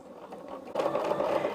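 A sewing machine stitching quilt pieces together, starting partway through with a close, steady whirring run of stitches and no talking.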